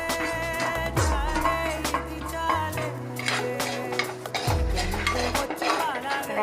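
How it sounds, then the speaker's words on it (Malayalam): Spoon scraping and clinking against a pan as chili, turmeric and coriander powders are stirred in for a Kottayam-style fish curry, with steady metallic stirring over loud background music. "ഇളക്കി കൊടുക്കാം"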